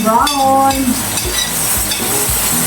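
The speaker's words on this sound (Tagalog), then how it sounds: "Ngayon, igisa na natin yung ating bawang." Garlic sautés in a hot pan for spaghetti: a bright, close sizzle with a spoon scraping and stirring in a steady rhythm about every half second.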